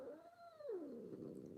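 A domestic cat lets out one drawn-out, grumbling meow that slides downward in pitch, close and fairly soft, with no one talking.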